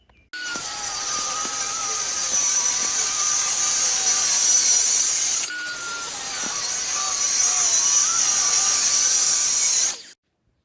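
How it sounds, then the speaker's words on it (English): Power saw cutting plywood into strips for a ramp, two long continuous cuts of about five seconds each with a steady high whine, loud and close, no talking. "I'm fixing to cut some strips, and then I'm going to cut them lengthwise"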